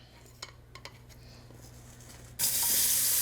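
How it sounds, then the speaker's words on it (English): Oxtail dropped into hot oil in a Dutch oven on the stove: a few faint clinks, then a sudden loud, steady sizzle that fills the rest of the moment. "I have my Dutchie on the stove with some oil in it. It's nice and heated, so I'm gonna drop in my oxtail now."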